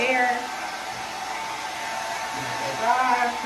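Blow dryer on a low, cool setting aimed over a synthetic wig, a steady close whooshing drone that runs through the whole clip with slight swells.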